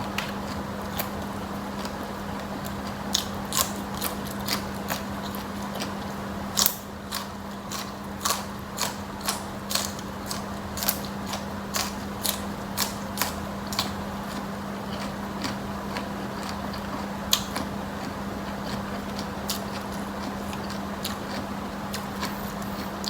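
Fried wonton-wrapped sausage is bitten and chewed up close, giving a long run of crisp, irregular crunches over a steady low background hum.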